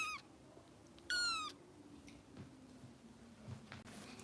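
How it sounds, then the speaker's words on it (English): A bottle-fed foster kitten lets out two tiny, high-pitched meows, a brief one at the start and a longer one a second later, then quiet room hum with faint rustles follows. "She does have tiny meow."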